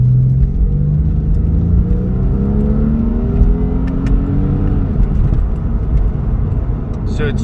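Porsche 996 Carrera 2 engine while driving, a steady low rumble that rises in pitch as it accelerates and shifts, continuous and close throughout with some talk in the car.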